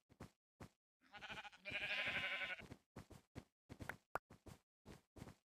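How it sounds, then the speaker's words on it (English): Sheep in the Minecraft video game bleat in a couple of bursts, one short and one longer and louder, amid intermittent clicking and tapping sounds. "Come here, you sheep."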